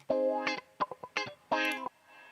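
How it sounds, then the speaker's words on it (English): Electric guitar notes and short chords through a HOFA IQ-Series Reverb V2 plugin; after the playing stops, a soft reverb tail swells up and lingers faintly. "the reverb is like pulled up after the guitar stops playing"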